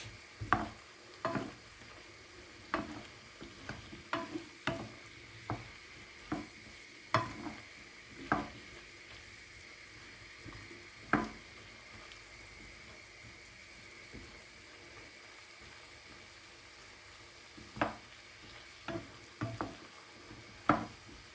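Mushrooms stirred in a pan while frying for a Turkish chicken kebab dish, with repeated sharp scrapes and clinks of the spoon over a faint, steady sizzle, close and fairly quiet, no talking.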